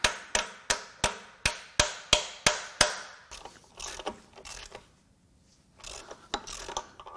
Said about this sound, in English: the reason I hit this with a hammer is if I leave this under some sort of tension